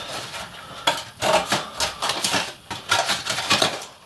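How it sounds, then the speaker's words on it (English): A cardboard box is cut into strips about an inch wide, producing close, scratchy, papery bursts of cutting in uneven strokes with short pauses between them, and no voices. "And we're going to cut the box into strips."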